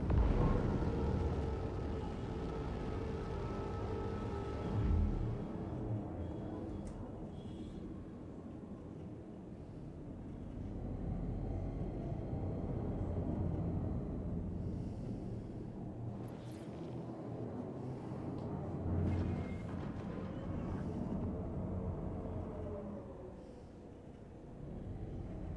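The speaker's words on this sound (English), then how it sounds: "The engine sound is pretty darn cool." Steady low spaceship engine hum from an Aegis ship in Star Citizen, a constant rumbling drone with slow swells in loudness, heard alone without talk.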